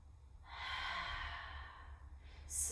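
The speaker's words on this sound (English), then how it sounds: "Breathing nice and long, deep breaths." Long, deep breath drawn in and slowly released during a yoga session, soft and close with a gentle airy hiss and no talking.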